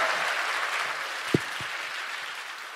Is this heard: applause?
yes